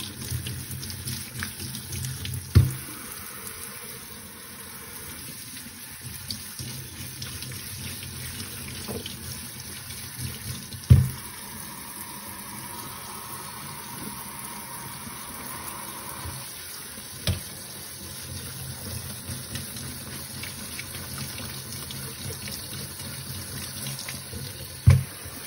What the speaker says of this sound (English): Rinse that off for a nice little minute.